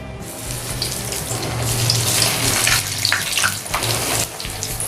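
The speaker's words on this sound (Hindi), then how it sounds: "अब एक एक करके सारी टिक्की को डीप फ्राई कर लेते हैं।" Potato tikki deep fry in hot oil, a dense, close, steady sizzle and crackle rising quickly and holding throughout.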